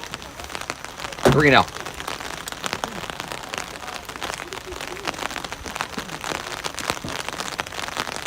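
Steady rain patters across an outdoor wiffle ball game as a dense, continuous hiss. A brief voice is heard briefly above it and commentators talk intermittently over the downpour.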